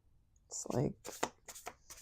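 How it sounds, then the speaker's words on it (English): Playing cards are shuffled up close in a quick riffle, with a soft rustle building into a brief fluttering burst and then several crisp snaps, over a faint background. "Okay, why are the cards not shuffling?"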